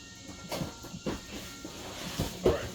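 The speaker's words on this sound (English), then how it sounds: "you're gonna want to use some brake parts cleaner to clean the rotor off" Short hissing spurts of brake parts cleaner hit a new brake rotor on a 2007–2018 Chevy Silverado 1500 5.3L. Several brief, fairly quiet bursts are spaced out over a faint background.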